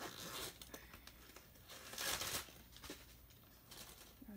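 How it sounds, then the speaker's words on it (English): A large makeup-sized bag is unzipped close by, giving rustling and crinkling with a louder, brief ripping pull in the middle. "So I'll just unzip it."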